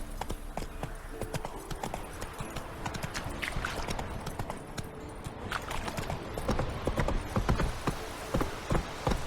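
Horse hooves from The Witcher video game pound in a steady galloping rhythm that grows louder toward the end, with the horse running over ground and no talking.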